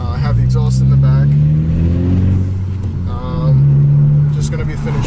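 A 2012 Volkswagen GTI fitted with an Injen Stage 2 intake revs twice from idle, each blip swelling into a loud, throaty rise and falling back, heard up close with a steady engine drone between.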